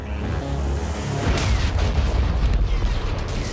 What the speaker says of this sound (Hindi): यह धमाका भी कीव में हुआ है और यह बहुत बड़ा हमला है